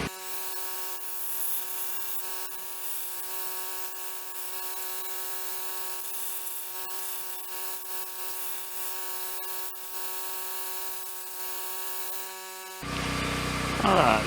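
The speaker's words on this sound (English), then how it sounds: "I'm going to tilt the grinder back" A belt grinder working the edge of a hand-made knife blade, a steady whining tone with harmonic hum and light scraping of metal, continuous for most of the time before a brief burst of harsher noise at the end.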